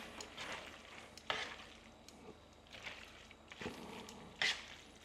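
Cacio e pepe pasta with grated cheese and black pepper being stirred and tossed, giving soft, wet scraping and squelching movements in a few bursts, with a sharper clink or two of utensil against the pan.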